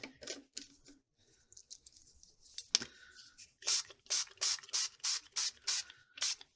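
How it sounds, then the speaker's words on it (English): Spray bottle misting Chroma Mist mica spray, giving a series of about eight close, evenly spaced hissing bursts after a few quieter taps and rustles. "I want to give this a fine mist."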